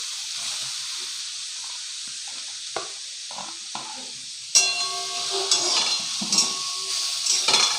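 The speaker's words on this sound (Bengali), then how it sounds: "এরপর আমি যে কেটে রাখা গাজরটা ঘিয়ের মধ্যে দিয়ে দেবো" Chopped carrots go into hot ghee in a clay pot and are stirred, a faint hiss that turns into a louder sizzle with scraping spoon strokes and light clinks against the pot, close up.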